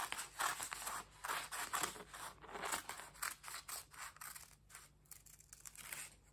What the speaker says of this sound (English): Now I'm going to cut out the neckline.